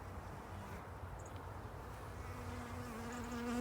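Honeybees buzz steadily around an open hive during an inspection, a close, continuous droning hum with individual bees passing near.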